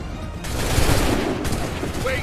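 A musket volley in Assassin's Creed III roars as a dense, sustained wall of massed shots, loud and close, with a voice faintly mixed in.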